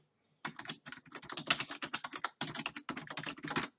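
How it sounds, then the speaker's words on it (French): Quick, close keystrokes clatter on a computer keyboard while typing text into LibreOffice Writer, a rapid run of crisp taps with short pauses, clear and alone. "On tape un truc pour montrer que c'est personnalisable."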